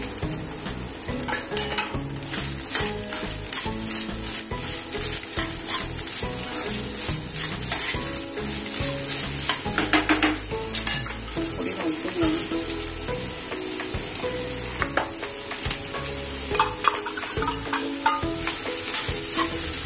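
A fresh coconut and sugar filling for Maharashtrian karanji is stirred in a hot pan, with continuous sizzling under repeated scraping strokes of a spoon against the metal.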